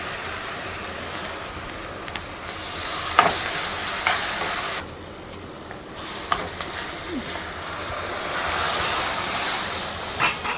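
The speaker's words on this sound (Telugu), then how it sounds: "కొంచెం ఇంగువ, బాగా ఫ్రై చేసుకోవాలి." Asafoetida sizzles and fries in a pan for cucumber chutney, a steady loud hiss with occasional sharp clinks of a spoon stirring, briefly dropping quieter midway before the sizzle resumes.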